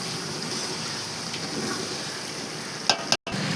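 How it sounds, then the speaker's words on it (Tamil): Lemon sautéing in a large pot on a gas stove for a batch of vegetable biryani: a soft, continuous sizzle with faint stirring, ending in a couple of sharp clicks and a brief dropout. "லெமன் நல்லா வதக்கி விட போகிறோம்."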